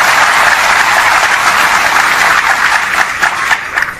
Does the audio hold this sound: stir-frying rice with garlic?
no